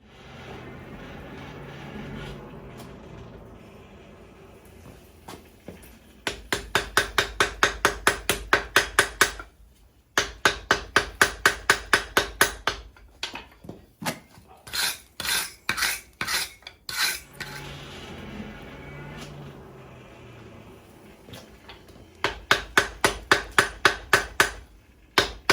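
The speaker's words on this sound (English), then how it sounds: "Now we're going to heat this, flux it, and forge weld it." Hammer blows forge weld a steel gambrel at the anvil, coming in rapid, ringing bursts of a dozen or so sharp strikes, separated by pauses and quieter stretches of hissing forge fire.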